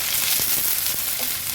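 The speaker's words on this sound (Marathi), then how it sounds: "मीडियम फ्लेमवर कांदा व्यवस्थित मी शिजवून घेते।" Chopped onion, added with crushed unpeeled garlic, frying in hot oil over a medium flame, a steady close sizzle with a few faint clicks of stirring.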